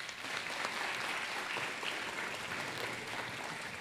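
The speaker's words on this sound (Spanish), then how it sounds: "Un fuerte aplauso, por favor." Dense, steady applause from a large audience at a dental aesthetics congress awards evening, a continuous wash of many hands clapping together at even loudness throughout, with no voices standing out.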